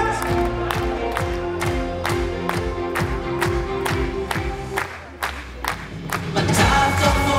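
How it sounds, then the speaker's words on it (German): At an open-air Schlager concert on a fairground, the crowd claps sharply in steady time with the music, about two beats a second, then breaks into louder cheering and whoops near the end. "Wir klatschen im Takt!"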